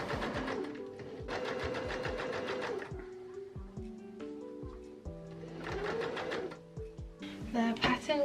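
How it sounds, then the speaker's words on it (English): A sewing machine runs in several bursts of rapid stitching along a fabric edge, forming a channel for elastic on a milkmaid-style dress, with pauses and handling sounds between runs and a voice speaking over parts of it. "to stitch along this edge. And that'll make a nice clean channel for our elastics to go through"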